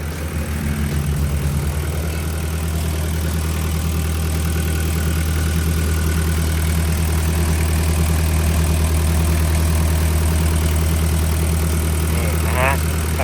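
Mitsubishi 4M40 four-cylinder diesel in a Caterpillar 308B eight-ton boom-swing excavator idles steadily, a loud, even low rumble with a constant drone throughout and a brief higher whir near the end.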